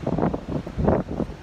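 Wind buffets the microphone outdoors on a windy morning, coming in rough low gusts that rise and fall in a couple of surges, loud and close.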